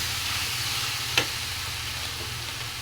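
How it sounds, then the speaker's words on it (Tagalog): Boiled taro stalks sizzling in a pan, a continuous soft frying hiss with one sharp clack of a utensil partway through, no talking. "Ilagay na natin yung nilaga kong tangkay ng gabi."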